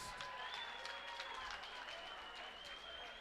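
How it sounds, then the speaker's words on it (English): A crowd applauds after a three-round mixed martial arts contest at the Rockland GAA, a steady wash of clapping that stays fairly far off and soft, with a faint tone running beneath it. "a round of applause for another amazing contest"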